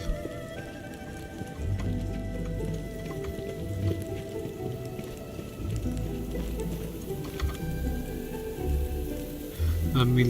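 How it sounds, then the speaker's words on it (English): Steady rain in an Endfield or Genshin video game, a dense even patter of drops with scattered plops and drips, close and continuous, with a slightly louder swell at the end. "Let me listen to rain ASMR for a bit."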